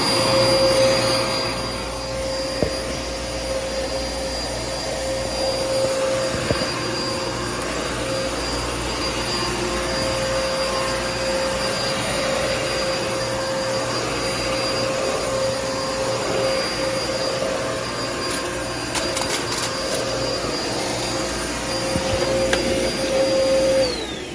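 A Dirt Devil upright vacuum cleaner being tested in a thrift store, running steadily and loudly with a constant whine and airy roar throughout, alone with no talk.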